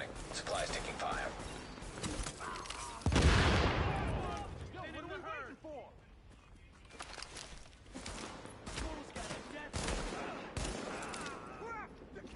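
Gunfire in The Division during a supply drop side mission at Penn Plaza medical supplies: bursts of rapid shots and sharp cracks come in clusters, with a loud hit near the start, under game voice alerts.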